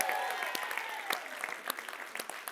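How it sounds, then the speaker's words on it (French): A studio audience at a French-language TV game show claps in sustained applause, with dense, even clapping and a few sharper individual claps standing out throughout. "applaudissez-vous encore une fois d'être là"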